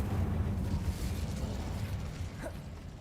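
Casting the Incendio fire spell in a Harry Potter video game, a muffled fiery burst and crackling rumble that swells briefly near the end amid dense game ambience.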